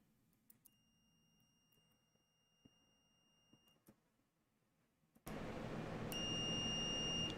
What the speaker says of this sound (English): Can you guys hear the beeping?